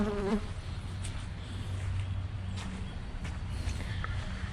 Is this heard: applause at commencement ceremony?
no